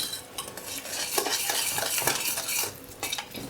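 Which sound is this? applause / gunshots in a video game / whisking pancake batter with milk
whisking pancake batter with milk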